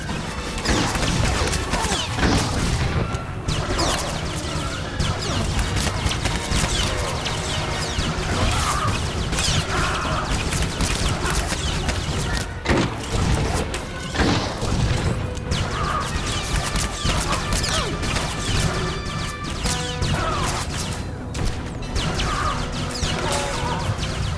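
Battle gunfire in the Star Wars: The Old Republic game, Trooper storyline: dense, continuous crashing and banging of blaster fire and impacts running throughout, loud and busy with mechanical clatter and occasional whooshes.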